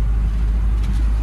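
Vehicle traffic heard from inside a truck cab on the road from Kadapa to Kurnool, with a car passing along the truck's left side; a steady, close, heavy low engine and road rumble runs throughout and no distinct pass-by swell stands out.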